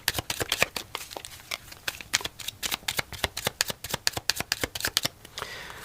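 A deck of tarot cards is shuffled and handled close up in a rapid run of crisp riffling slaps, loud and dense with no talking over them.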